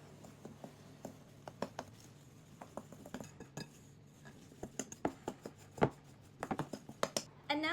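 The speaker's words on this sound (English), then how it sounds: "And we're going to stir this all together." A spoon stirring a Weet-Bix marshmallow slice mixture in a bowl, a quiet run of irregular scraping clinks and taps against the bowl, growing busier and louder toward the end, close up.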